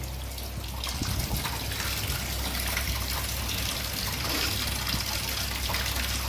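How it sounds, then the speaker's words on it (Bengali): Water runs steadily from a tap while a rohu fish is washed, a continuous close splashing and gushing stream with small irregular sloshes as the fish is handled, loud and uninterrupted with no speech. "রুই মাছটা পায়েল ধুচ্ছে ভালো করে"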